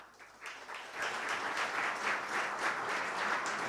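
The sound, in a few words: audience applause welcoming panelists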